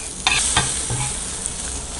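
A beaten egg mixture fries in a little oil in a pan, giving a continuous soft sizzle broken by a few sharp scrapes as it is stirred and turned.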